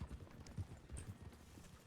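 Faint, muffled hoofbeats from a horse in the RedM roleplay game, a steady walking clip-clop rhythm heard quietly in the background.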